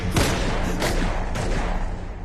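Gunfire sound effect from a Telugu comedy film scene: three sharp, loud bursts spaced through a short stretch, each a broad crack with a trailing rumble, over a steady low background.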